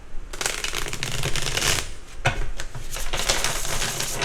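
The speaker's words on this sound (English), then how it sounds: "I will shuffle." A deck of cards is shuffled repeatedly, a dense riffling flutter that runs in several bursts with brief pauses between them, close and fairly loud, with no talking.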